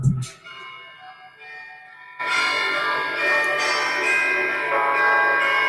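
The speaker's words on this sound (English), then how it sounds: "Can I get some bells?" Bells ring out loudly after a brief quiet start, with sustained, shimmering tones that overlap and linger.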